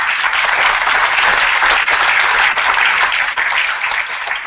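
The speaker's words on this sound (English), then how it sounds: "Give them a round of applause, guys." Sustained, dense applause from a large audience at a tech conference on a beach, loud and steady throughout with no talk over it.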